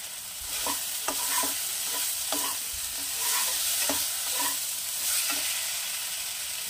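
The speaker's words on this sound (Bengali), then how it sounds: "1/2 চামচ লঙ্কা গুঁড়ো, মশলাটা কষানোর জন্য দিয়ে দেবো একটু সামান্য পরিমাণে জল" Spice paste with chili powder and a splash of water being sautéed for a koi fish and cauliflower curry, soft continuous sizzling under a run of rhythmic spoon scrapes against the pan.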